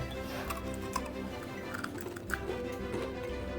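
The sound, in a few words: chewing crunchy chocolate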